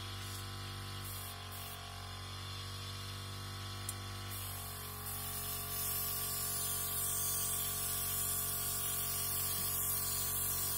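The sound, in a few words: VEVOR electric paint sprayer spraying pigment-tinted water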